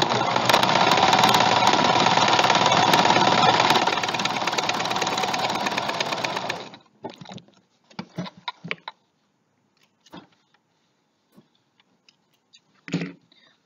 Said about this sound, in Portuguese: vou passar um zigue-zague para dar um acabamento melhor